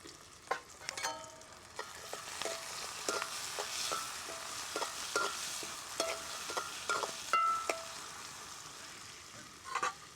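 Chili and garlic frying for prawn curry, a close sizzle with repeated clinks and scrapes of stirring in the pan, irregular and fairly quiet, with no voices.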